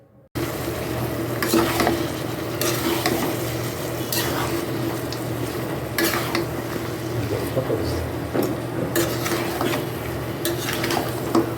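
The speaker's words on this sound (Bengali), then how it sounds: "মাংসটা এখন একটু নাড়াচাড়া করে দেব।" Meat, already well browned, is stirred in a pan on the stove. Repeated scraping strokes of a spoon against the pan sound over a low sizzle, close and moderately loud, with a faint hum beneath.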